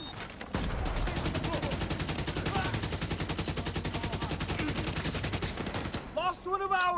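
Rapid automatic gunfire in a video game rattles in a dense, steady stream for several seconds, loud and close, ending with a few scattered bursts.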